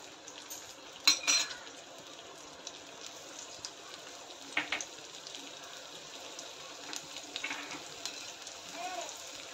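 Finely chopped ginger and garlic fry in hot oil, giving a quiet, steady sizzle with a few sharp clinks of a utensil against the pan.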